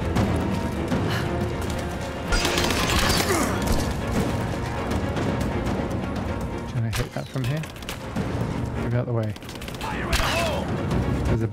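Gunfire and crashes from the video game Rise of the Tomb Raider, rapid volleys, thuds and booms packed closely together at loud level, with a person talking over the fight.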